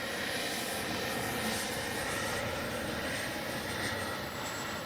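A HobbyKing Viper 64 RC jet flying overhead gives a continuous, fairly faint whooshing whine that rises and falls slightly over a few seconds, heard outdoors with no talk.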